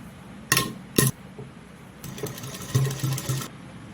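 A sewing machine stitches lace onto an Afghani salwar, with short close bursts of whirring stitching separated by pauses and small metallic clinks.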